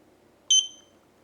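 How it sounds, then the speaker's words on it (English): A single short, high electronic beep from a eufy security device during pairing sounds once against a quiet background hum. "Heard the beep."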